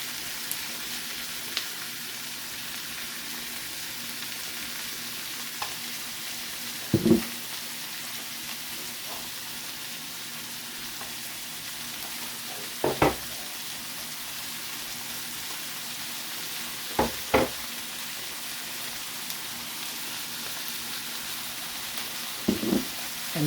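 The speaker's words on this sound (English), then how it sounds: "now after about a minute, you can start adding all the other ingredients one by one into the frying pan" Vegetables and other ingredients frying in a pan for chicken patties, with a steady soft sizzle throughout and a few sharp clicks and knocks from stirring at intervals.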